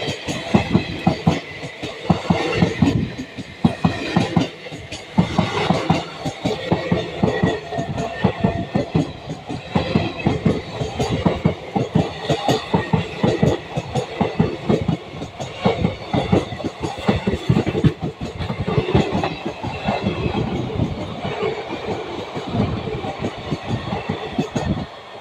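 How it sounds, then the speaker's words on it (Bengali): Gangasagar Express passenger train rushing past close by, a loud continuous roar of wagons with dense rhythmic clickety-clack of wheels over rail joints lasting throughout, no voices. "এখন সামনে দিয়ে বেরিয়ে যাচ্ছে গঙ্গাসাগর এক্সপ্রেস।"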